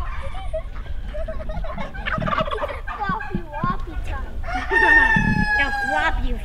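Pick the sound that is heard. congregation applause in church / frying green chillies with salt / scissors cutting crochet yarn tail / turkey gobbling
turkey gobbling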